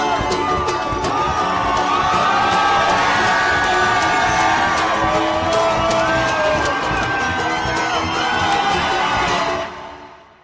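A large crowd at an outdoor Bernie Sanders rally in the rain screams and cheers continuously, a loud sustained roar of whoops and shrieks that fades out at the very end.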